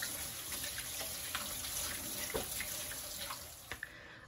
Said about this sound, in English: we always want to wash our hands with soap and water